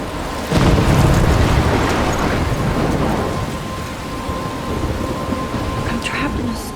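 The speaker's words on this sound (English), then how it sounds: "I'm trapped in a storm?" A heavy thunderstorm in Life is Strange breaks with a loud thunder crash near the start, and dense, steady rain pours on afterward with low rumbling underneath, and no voices are heard.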